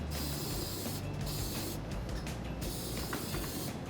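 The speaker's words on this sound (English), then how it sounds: "I use a zinc spray like this." Continuous loud hiss of an aerosol zinc spray can held down for several seconds, close up, with slight fluctuations as it is moved.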